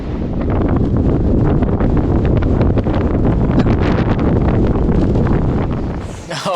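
Strong wind buffets the microphone along a dusty trail, a loud, steady roar lasting several seconds before it briefly drops off at the end.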